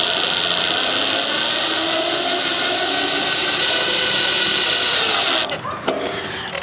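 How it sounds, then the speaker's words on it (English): Screws are driven to cut threads in a Victorian house, with a continuous gritty grinding rasp close by that holds steady for several seconds before it breaks off into a few clicks. "I'm going to see if I can cut some threads with these screws."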